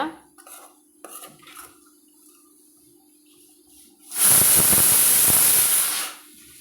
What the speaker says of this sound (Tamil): நல்லா எல்லாம் ஒன்றா கலந்து வரும்படி நல்லா கலந்து விட்டுவிட்டாலே